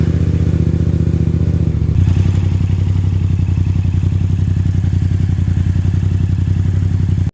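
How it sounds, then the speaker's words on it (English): A motorcycle engine starts and settles into a steady, loud idle right after an oil change, its even rapid pulsing close by and alone throughout. "Turn the bike on and check the oil filter and drain bolt for leaks."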